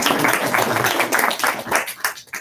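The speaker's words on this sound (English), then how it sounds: "Please do a final round of applause." Audience applause closing an evening talk, a dense wash of many hands clapping that sits close and steady, then thins and trails off near the end.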